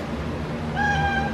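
A cat meows once in a clear, rising-and-falling call over a low household background hum, with no talking.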